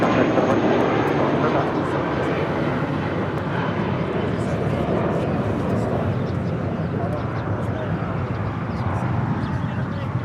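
A JetBlue airliner roars steadily on its takeoff run at LAX, a loud continuous engine rumble that holds for the whole stretch, with a faint radio voice briefly over it.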